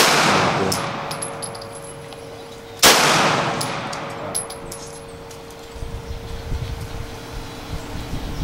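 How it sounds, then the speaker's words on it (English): A 9mm pistol fired at outdoor target practice in Arkansas: one sharp, loud report stands out near the start, followed by a long decaying tail and faint background rustle. "going to shoot the 9mm"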